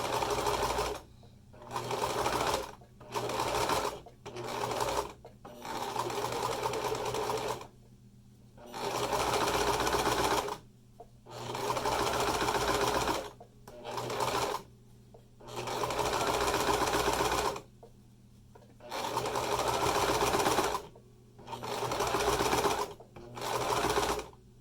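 Sewing machine stitching a fabric face mask, running in repeated bursts of a few seconds each with short pauses between, close and steady.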